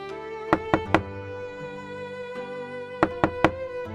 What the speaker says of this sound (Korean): 마치 누군가 안에서 두드리는 것 같았습니다.